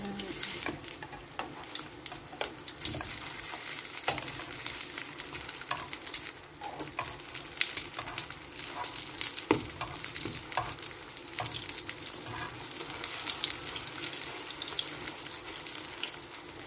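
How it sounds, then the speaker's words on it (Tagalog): Eggplant dipped in beaten egg fries in a pan, a steady soft sizzle and crackle with scattered sharper pops and light stirring clatter throughout. "So, una, piprituhin muna natin."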